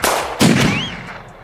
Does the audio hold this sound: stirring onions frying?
no